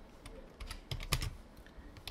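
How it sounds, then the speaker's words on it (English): Several quick, faint keystrokes tap out on a computer keyboard, irregular and close, with no one talking. "I'm just going to type"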